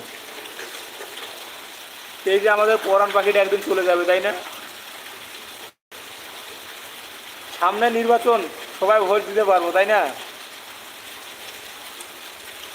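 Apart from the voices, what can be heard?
heavy rain falling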